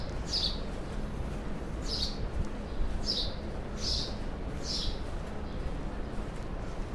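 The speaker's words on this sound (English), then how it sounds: "There's some aggressive sounding birds." Birds give repeated short chirping calls on a Manhattan street, about five evenly spaced bursts rising over a steady low city traffic rumble.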